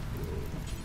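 Rain falling in the video game RimWorld, a brief steady wash of rainfall with low rumbling underneath, even and continuous throughout.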